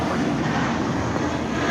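A jet airliner takes off at Los Angeles International Airport, its engines producing a loud, continuous broadband roar that holds steady throughout.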